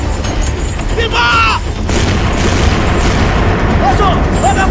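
A deep cannon boom from a period naval battle drama set in Aceh, heavy and loud, rolling on under shouted orders and a busy battle din.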